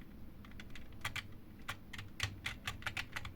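Rapid, irregular clicking of keys on a computer keyboard, close and crisp, with uneven bursts of keystrokes over a low background hum and no speech.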